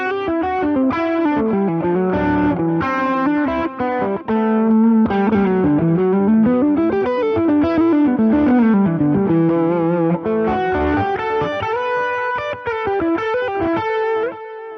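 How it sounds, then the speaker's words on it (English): Electric guitar solo played through a Line 6 HX Stomp with delay switched on, a distorted lead line of sustained, bending notes with echo trails, loud and continuous with no talking. "for a solo tone I would kind of just kick on a delay"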